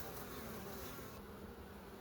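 Carniolan honey bees buzz in a continuous low drone, faint but steady, near the hive with no speech.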